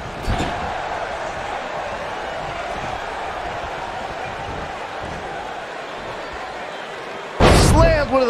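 A wrestler slams down hard onto the mat during a women's wrestling match, a loud sharp impact near the end that follows a long stretch of crowd murmur and arena ambience.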